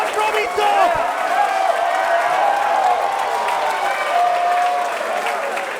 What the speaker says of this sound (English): This capacity crowd here at the MCW Pavilion coming alive for Mitch Waterman